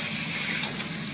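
Water pours from a rain shower head in a campground shower house, making a dense, steady hiss of spray that stays loud and constant for about a second.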